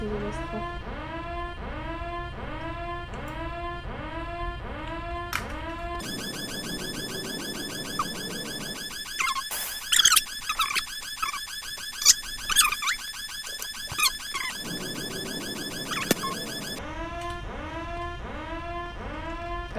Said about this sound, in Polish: Co, i ten alarm będzie mnie prześladował?